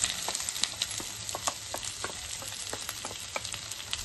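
Potatoes frying with fried masala in a pan for singara filling, a steady crackling sizzle dotted with sharp pops and the scrape of stirring, close and moderately quiet.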